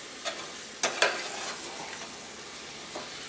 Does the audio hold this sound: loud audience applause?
no